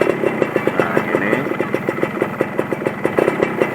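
A Yamaha F1ZR two-stroke motorcycle idles in neutral, its engine putting out a steady, close, rapid popping pulse at an even rhythm without revving.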